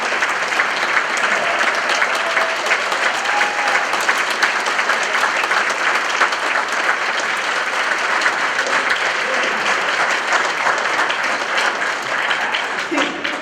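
Sustained audience applause for Bob Henderson, a man turning 90, fills the whole stretch as a dense, steady roar of many hands, with brief cheers or voices cutting through.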